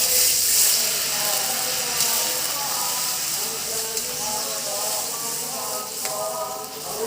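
Water with chili sauce boils in a pan, giving a steady close hiss and soft bubbling that runs evenly throughout at moderate volume.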